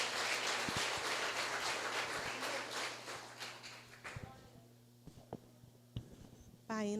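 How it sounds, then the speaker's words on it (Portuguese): Church congregation clapping during a Sunday evening family service, a dense wash of applause that thins out and fades, leaving scattered claps and brief sounds. "Aplauda o Senhor"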